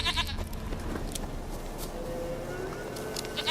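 Goat bleating in the video game The Witcher 3: Wild Hunt, heard as a few faint bleats under steady outdoor ambience and background game sound, with no talking.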